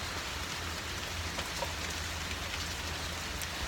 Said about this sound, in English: But now it's pouring down rain.